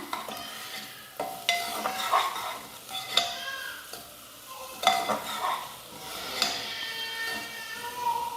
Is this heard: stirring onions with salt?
yes